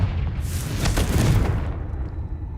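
A Confringo explosion spell in Hogwarts Legacy on PS5 lands as a single booming blast with a bright burst that rumbles and fades over about two seconds.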